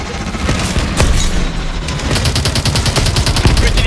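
Rapid bursts of automatic gunfire and heavy booming cannon blasts from a Call of Duty Advanced Warfare campaign battle against tanks, dense and loud, with a fast machine-gun rattle toward the end.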